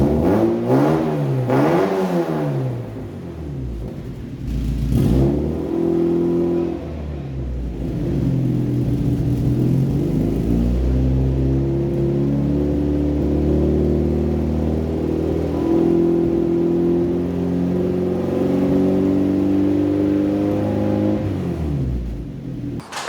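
A Mazda MX5 NB track car engine revs hard through a custom exhaust, the pitch rising and falling in repeated sweeps before settling into a sustained, droning high rev over about twenty seconds.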